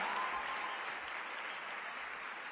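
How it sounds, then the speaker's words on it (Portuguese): Church congregation applauding at a worship service, a steady, dense wash of clapping that holds evenly throughout, with no voices standing out. "Não, aplaude com vontade, aplaude com vontade."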